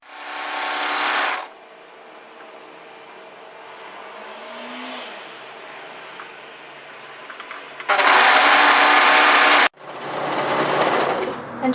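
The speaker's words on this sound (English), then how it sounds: "just continue and sew and match notches as you go" A sewing machine stitches a side seam on a cowl neck top in three loud bursts of rapid whirring, the first short, the last two close together, separated by quieter handling of fabric.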